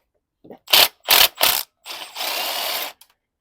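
A ratchet works 13mm clutch slave cylinder bolts on a 2L VW Transporter, giving three sharp close bursts of clicking followed by one longer steady run of ratcheting.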